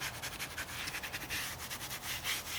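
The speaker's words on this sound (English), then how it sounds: "I'm just giving it a little light scrub action going at a diagonal direction to the grout joint" Light scrubbing across tiled grout joints on a diagonal, a steady soft rubbing swish repeated in quick strokes, close and moderately quiet with no talk.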